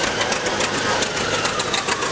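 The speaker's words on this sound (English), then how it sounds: "we've got another antique John Deere coming" Antique John Deere tractor in a Christmas parade, its engine running steadily nearby, a continuous knocking mid-range chug with faint rattling vibration and no speech over it.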